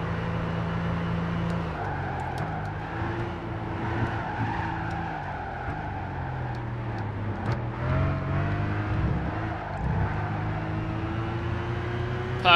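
A Nissan Skyline-type car driving in Gran Turismo 5: a loud, steady engine drone that shifts pitch through gear changes, with squealing tires running over it for most of the run.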